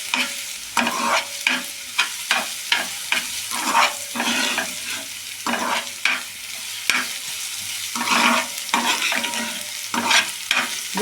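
Onions sauté in a garlic and green chili tempering for a Marathi methi bhaji, with a steady close sizzle broken by repeated rhythmic scrapes of a spoon stirring against the pan.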